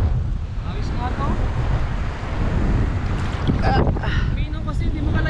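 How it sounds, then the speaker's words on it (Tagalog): Strong wind buffets the microphone on a fishing boat at sea, a loud continuous rushing roar with water sounds beneath and brief faint voices talking over it. "Lakas naman ang hangin."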